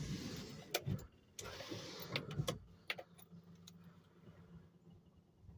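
A 1981 Datsun 720 pickup engine cranks without catching, with short bursts of starter whirring broken by clicks and pauses, close and fairly quiet, ending in a low steady hum.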